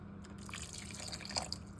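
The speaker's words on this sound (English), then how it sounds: "Now I would add some more water into this recipe." Water is added to a thick chicken fesenjan sauce made with tahini, heard as a few brief drips and small splashes, soft and close, over a quiet background.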